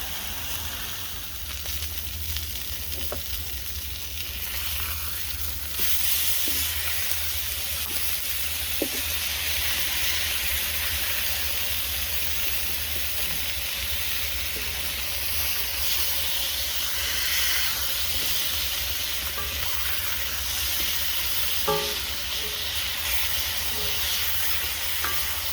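Food sizzles in an Amazon Basics XL cast iron skillet over a butane stove, a loud, steady hiss and crackle that runs unbroken and close, with faint small clinks and no talking.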